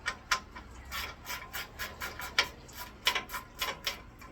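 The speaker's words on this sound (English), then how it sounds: "I'm gonna just take these screws off right here, loosen everything" A ratchet clicks in quick, uneven bursts while screws on a car are loosened and removed, quiet and close, with no voices.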